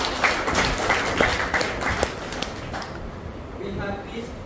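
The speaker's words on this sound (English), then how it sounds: "Let us once again give them a round of applause." Audience applauding after a song performed at a jubilee inauguration ceremony, dense clapping filling the hall, with a voice speaking over it before the applause thins out toward the end.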